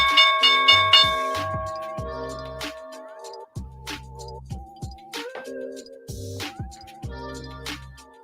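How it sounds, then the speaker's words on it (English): A stock market opening bell rings in a long series of electronic, repeated chimes, loud and sustained for several seconds with no speech over it. "Here's the bell."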